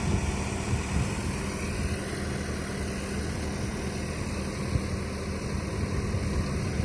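A tractor engine on a hay-making farm runs with a steady, unbroken low drone and rumble, close and constant throughout.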